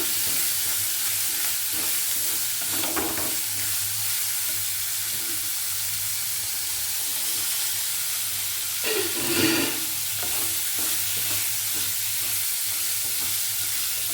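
Carrots and beans stir-fry in a hot pan for a breakfast vermicelli (shavige bath), giving a steady sizzle throughout with two louder bursts of stirring scrapes around the third and ninth seconds.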